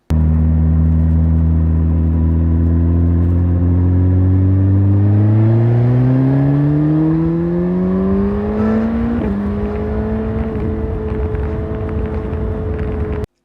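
A Suzuki GSX-S1000GT sport motorcycle engine revs up in one long, smooth rising whine, climbing steadily in pitch before leveling off, loud and close.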